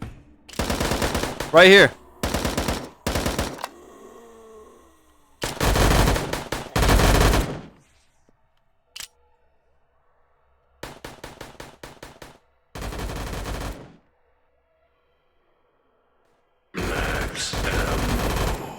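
Automatic AUG rifle bursts in VRChat, several loud rapid-fire volleys separated by silences, with a brief spoken remark between bursts.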